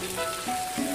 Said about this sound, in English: Fry for about 1 minute until the fish turns golden, then flip it over and fry the other side